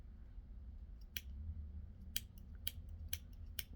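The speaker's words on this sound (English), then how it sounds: "so we have to snip quite a bit here" Scissors snip through a thick bundle of yarn wrapped on a fork for a pom-pom, with about six crisp, close cuts at irregular intervals over a quiet background.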